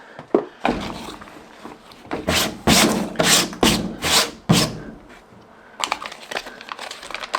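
A bag of packing popcorn is torn open and rummaged, giving irregular bursts of close crinkling and rustling with short pauses between handfuls.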